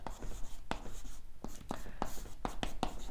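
Chalk or marker strokes on a board while a math equation is written, sharp scratchy taps and short strokes in an irregular rhythm, close and moderately loud with a faint room background.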